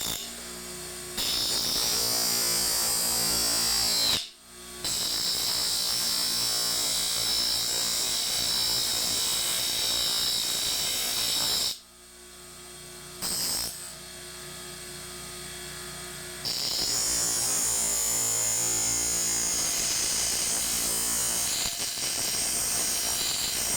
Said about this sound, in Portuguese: agora a gente tem que desbastar essa ponta aqui no esmeril